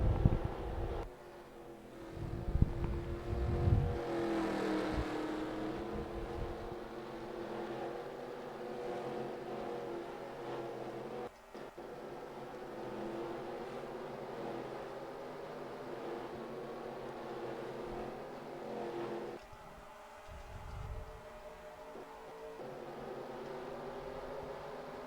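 Race cars circle a track in the NASCAR Racing 2003 game at a South Africa venue, a faint continuous engine drone with swells as cars pass, no talk.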